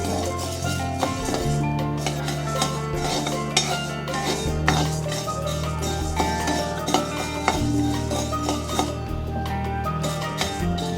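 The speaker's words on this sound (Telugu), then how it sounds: "మినపప్పు వేయించుకోవాలి. ఇది కూడా సేమ్ బ్రౌన్ కలర్ వచ్చేంత వరకు వేయించుకోవాలి మినపప్పుని." Urad dal dry roasts in a pan while being stirred, with continuous close scraping and rattling of the lentils against metal and a low steady hum underneath.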